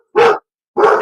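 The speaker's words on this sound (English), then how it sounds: "That's my dog." A dog barks twice, loud and close, two short sharp barks separated by a brief pause, with no talk over them.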